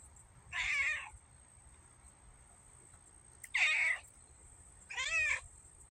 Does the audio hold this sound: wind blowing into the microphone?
no